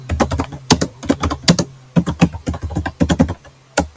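Fingers type rapidly on a computer keyboard while entering text into a Microsoft Word document. Loud, close key clicks come in quick irregular bursts with brief pauses, and nobody speaks.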